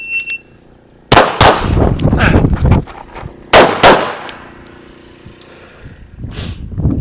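Gunshots from a practical shooting drill aimed at a rear target. Two loud, sharp reports are spaced a few seconds apart, each ringing out into the open air. A quieter shot follows near the end.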